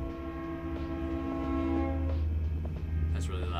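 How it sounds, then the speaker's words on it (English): A train rumbles past nearby while its horn sounds in a sustained, loud, harmonic blast that holds over the steady low roar of the rolling cars, with brief clatter near the end. "Here comes the train"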